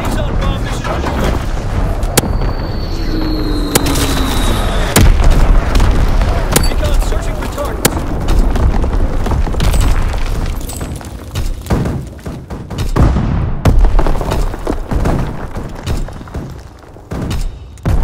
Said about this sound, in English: Firing for full effect. Target zone locked.